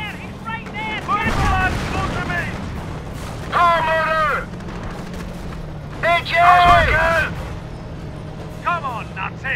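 Tank gun fire in the game Company of Heroes lands as a couple of heavy booms amid battlefield rumble, while voices shout over the action throughout.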